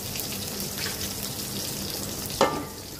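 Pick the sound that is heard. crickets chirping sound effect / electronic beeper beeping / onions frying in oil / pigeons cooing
onions frying in oil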